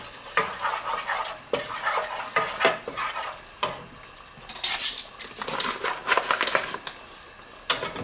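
Wooden spoons stir and scrape through homemade macaroni and cheese in a pot, with irregular close knocks and wet clattering scrapes repeating steadily.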